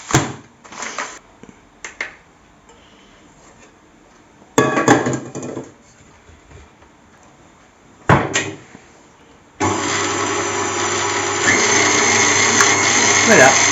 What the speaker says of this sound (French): on mélange simplement les œufs